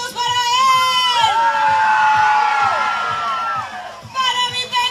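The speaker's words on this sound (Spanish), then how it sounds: "¡Aplausos y gritos para él!" Crowd at a karaoke contest during a town fair in San Juan, Intibucá, cheering and shouting loudly and continuously. Applause is mixed in, with some whoops and high voices over a sustained roar that eases near the end.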